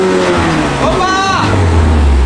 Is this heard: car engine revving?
yes